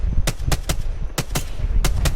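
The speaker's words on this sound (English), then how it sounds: "I hear the gunshots over there, and I spotted them right there." Gunfire in Apex Legends comes in rapid close bursts of sharp, loud shots, several quick volleys with short gaps between them.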